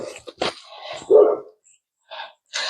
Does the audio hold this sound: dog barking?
yes